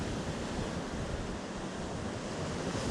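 Sea waves break and wash continuously on the Northumberland shore, a loud, broad, steady roar mixed with wind buffeting the microphone, with no voices.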